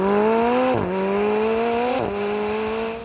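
A twin-turbo 4-litre V8, the McLaren P1's engine, revs hard in The Grand Tour driving game, a loud sustained drone that drops in pitch twice as it shifts up through the gears, with no talking.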